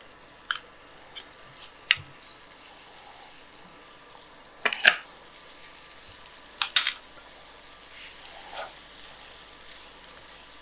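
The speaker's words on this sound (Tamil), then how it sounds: "இதை வந்து அப்படியே லோ ஃப்ளேமில் என்ன செய்யலாம்னா ஒரு 8லேருந்து 9 நிமிஷம் நம்ம அப்படியே வறுத்து எடுத்துக்கலாம்." Chicken frying in hot oil over a low flame gives a quiet bed of sizzle broken by a few sharp crackles and pops at scattered moments, close by.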